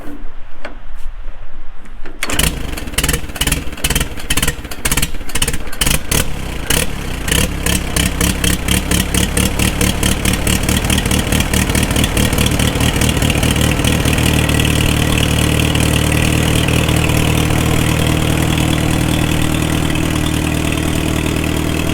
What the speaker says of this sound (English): you're going to hear the magneto impulse, and then hopefully it'll start right up